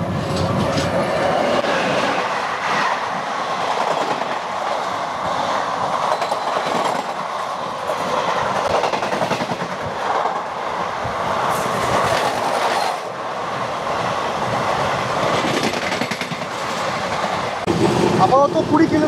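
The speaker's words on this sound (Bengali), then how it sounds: "দীক্ষাভূমি এক্সপ্রেস।" The Dhanbad–Kolhapur Deekshabhoomi Express passing close by on an Indian railway line, a loud sustained rumble with rhythmic wheel clatter and squealing swells lasting nearly twenty seconds.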